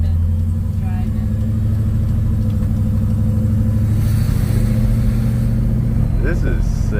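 A 1968 Dodge Charger engine idling while warming up, a loud, steady low rumble filling the whole stretch, with people talking nearby over it.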